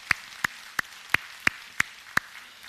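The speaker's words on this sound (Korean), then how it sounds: "우리 하나님께 영광의 박수 올리겠습니다" Seven sharp, evenly spaced claps ring out in a church right after a prayer, steady and fairly close, with no voices over them.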